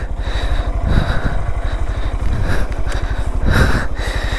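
A motorcycle engine on an off-road trail ride in Munnar chugs steadily and loudly up close, with a rough rhythmic thump and occasional surges in revs.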